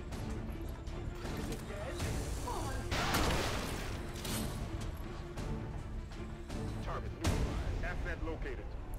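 Gunfire and grenade explosions in the video game Long War 2, several sharp booms and crashes with a bigger blast mid-way and another near the end, under someone talking.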